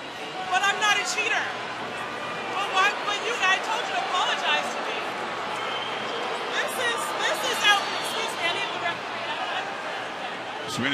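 Crowd noise in a tennis stadium during a Serena Williams match, a continuous babble of many voices with scattered shouts and whistles under a commentator's voice.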